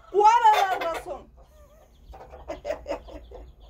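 Rooster and hen with chicks, a loud close squawking call followed by softer rapid clucking, with a quiet low hum underneath.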